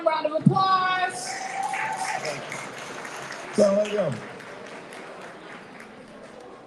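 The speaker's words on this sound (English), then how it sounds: "Please give them a warm round of applause." Audience applause at a Mohammed Schools of Atlanta alumni class reunion and community celebration: a steady patter of clapping under someone speaking, thinning out toward the end.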